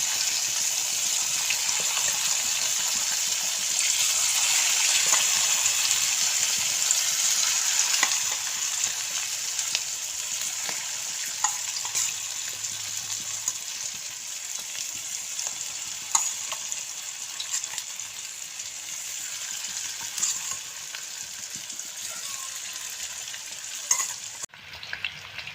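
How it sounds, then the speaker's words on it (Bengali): Chicken pakoras deep-fry in hot oil with a continuous, even, hissing sizzle and occasional faint clatter, with no talk. "এবার বাদ বাকিগুলোও ভেজে তুলে নেব।"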